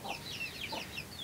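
A hen clucks softly among her chicks, with a few brief high peeps and low clucks scattered across a moment of quiet indoor sound.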